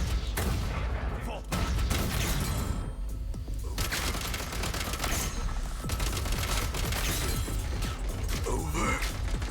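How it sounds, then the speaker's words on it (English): Grenade-launcher fire in a video game comes as heavy, booming blasts and crashes within a dense, continuous wash of battle noise and effects, with voices talking throughout. "Grenade launcher, let's go!"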